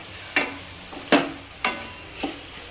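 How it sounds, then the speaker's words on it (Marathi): A spoon stirs Khandeshi baingan bharit, mashed eggplant, in a pan, giving four distinct scraping strokes at an even pace over a faint sizzle, with no one speaking. "छान असं आपण मिक्स करून घेऊया"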